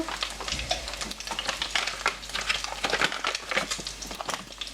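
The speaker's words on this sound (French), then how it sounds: "délicatement et vous touillez" Meatballs being stirred in a pan of hunter sauce, a steady wet scraping and gentle bubbling sizzle that continues close and fairly loud, with no voices.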